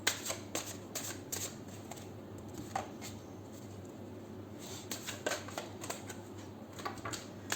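Soft riffling and flicking of tarot cards being shuffled, repeated in short bursts with light taps between, close and fairly quiet.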